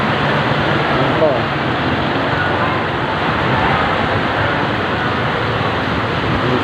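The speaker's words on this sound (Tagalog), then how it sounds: "Yung iba dyan, hindi alam na malakas ang ulan." Heavy typhoon rain pounding on a roof during Typhoon Hanna, a dense, steady roar mixed with gusting wind, loud and unbroken throughout.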